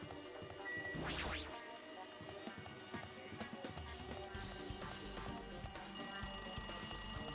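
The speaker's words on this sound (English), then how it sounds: "Looks like that phone is ringing." A phone rings in the video game Danganronpa 2, a bright electronic trill with a sweeping tone near the start, then continuing faintly over steady game background sound.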